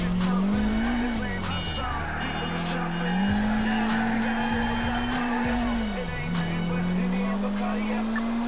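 A stolen car speeds away at night in Grand Theft Auto IV, its engine whining loud and close with tire squeal and skidding as it accelerates, while a person talks over it.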